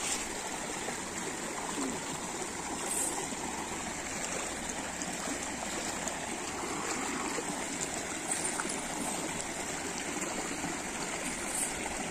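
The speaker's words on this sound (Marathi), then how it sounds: "किती फोर्स मध्ये आहे पाणी." Steady rushing stream water, a continuous broadband roar with no letup throughout.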